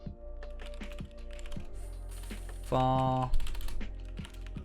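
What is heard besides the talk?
typing on a computer keyboard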